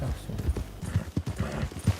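Horse hooves clip-clop steadily at a trot in Red Dead Redemption 2, with close, uneven thuds and a low background hum.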